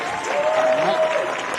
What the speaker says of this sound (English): Give Isaiah a big round of applause.